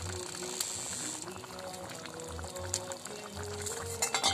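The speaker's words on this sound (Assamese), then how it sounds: "আমাৰ ঝোলখিনি উতলি আহিছে" Fish curry with roe fritters bubbles in a pot, a soft steady boiling burble with a few clinks and a louder gurgle toward the end.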